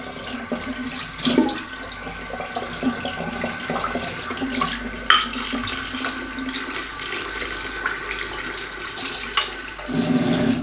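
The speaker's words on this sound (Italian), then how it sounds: "Intanto devo pulire un po' anche il pennello e i residui dell'hard soap, se no rimane bianco." Running water from a faucet rinsing hard-soap residue out of a shaving brush, a steady close splashing stream with occasional sharper splashes and clatter, and no voices.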